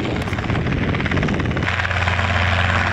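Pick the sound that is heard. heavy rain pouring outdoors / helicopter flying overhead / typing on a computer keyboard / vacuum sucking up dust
helicopter flying overhead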